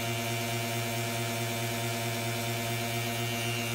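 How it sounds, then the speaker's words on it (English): A Tesla 3-phase motor running as a generator gives off a steady, even electrical hum with strong harmonic tones, constant and unbroken at moderate level. "sound of it humming, and you can hear it."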